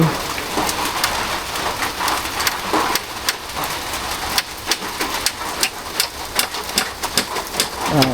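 Steady rain falling around a house under construction, a dense hiss with sharp drips and taps striking a surface in irregular succession, close and continuous, no voices.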